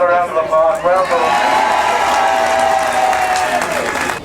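A crowd at a Right2Water rally in Swords, North County Dublin, breaks into loud sustained clapping and cheering, with shouted voices rising over the applause before it begins to fade.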